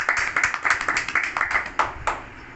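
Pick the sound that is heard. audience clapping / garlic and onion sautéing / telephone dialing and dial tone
audience clapping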